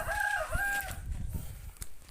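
A rooster of the Pama, Birma or Mangon breed crows once, close and clear, followed by a few softer clucks and quiet farmyard sounds.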